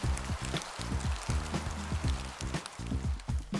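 Rain falling in a children's cartoon about puppies and the weather, a steady patter heard under a bouncy repeating music track, with no talk.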